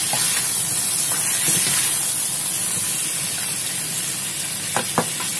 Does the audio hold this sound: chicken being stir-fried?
yes